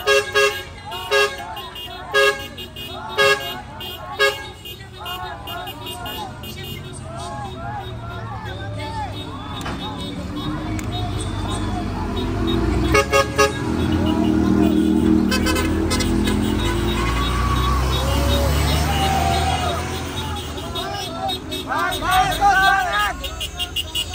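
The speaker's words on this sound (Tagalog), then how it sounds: "Mga kababayan, bumubusina na." Car horns toot in short repeated bursts, then a long chorus of many horns blares together amid crowd chatter and traffic at a political rally, with more honks at the end.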